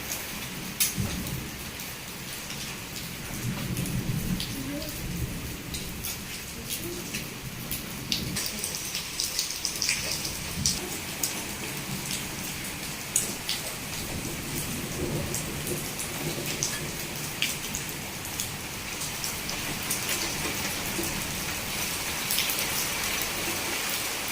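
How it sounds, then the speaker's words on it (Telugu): Heavy rain pours down steadily in a sudden storm, a dense continuous hiss with thunder rumbling low at times, heard alone without any voices. "ఇంకా సడన్లా గాలి ద్వారం వచ్చేసి ఇంకా ఫుల్ వర్షం అయితే పడుతుంది"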